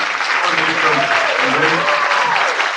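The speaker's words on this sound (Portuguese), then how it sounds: "recebam com uma salva de palmas o nosso convidado da manhã" Studio audience applause on a Porto Alegre radio morning show welcoming a guest, a dense clatter of clapping with voices talking faintly beneath it.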